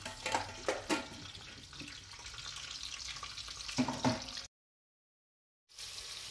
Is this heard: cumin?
yes